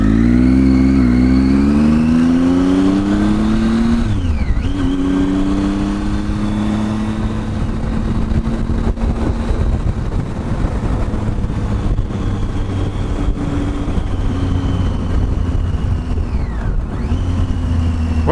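A KTM motorcycle engine, one of a 690 Enduro R or 300 and 350 dirt bikes, revs up and drops back in a couple of swells and then holds a steady, loud, close drone for the rest of the run, with no voices.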